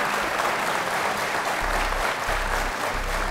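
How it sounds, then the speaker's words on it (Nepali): Studio audience applauding on a Nepali television quiz show set, a steady, dense wash of clapping that fills the room throughout without a break. "उहाँहरुलाई एकचोटी ताली त बजाइदिनुस्"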